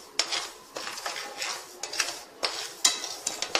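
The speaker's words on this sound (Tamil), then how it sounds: "அதனால் எண்ணெய் விடாமல் நல்லா இப்படி சூடு பண்ணி எடுத்துக்கலாம்." Yellow foxtail millet is dry roasted in a frying pan without oil, stirred with a utensil. Repeated scraping swishes and light metallic taps come in a quick, uneven rhythm, close up and fairly quiet.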